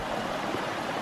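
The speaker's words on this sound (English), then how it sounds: "made it to the first waterfall" Water from a waterfall in Cebu, Philippines rushes in a dense, steady roar, loud and close, with no breaks.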